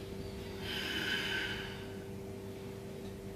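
Yoga students breathe audibly during a held pose, a single long, rushing exhalation rising and fading over about a second against a steady low room hum.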